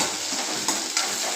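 Curry leaves and coriander sautéing in hot oil give a steady close sizzle with a couple of brief stirring scrapes of a utensil in the pan.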